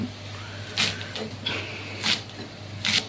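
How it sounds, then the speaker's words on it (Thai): Sharp knife strikes on a cutting board while chopping chili peppers come at irregular intervals, crisp and close, over a low steady hum in a quiet room. "หั่นพริก"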